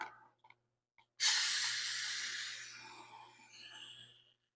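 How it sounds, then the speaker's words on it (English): Carb cleaner sprays from an aerosol can onto the carburetor of a WEN 2000W inverter generator, a sudden loud hiss that starts abruptly and trails off over a few seconds, heard alone and up close. "That's some carb cleaner. Throw that thing in there."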